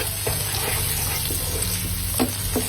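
Vegetables sautéing in a hot pan for spring rolls, giving a steady sizzling hiss with occasional stirring scrapes and no talk over it.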